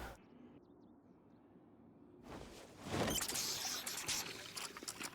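A water bottle fills in the survival game Project Zomboid, a quiet stretch giving way to a louder rushing pour and trickle that carries on to the end.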